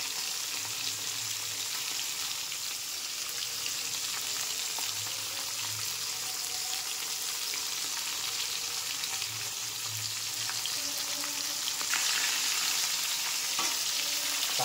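Pangas fish fries in plenty of oil, giving a dense, steady hiss and crackle of sizzling with faint low clunks underneath, continuous and close.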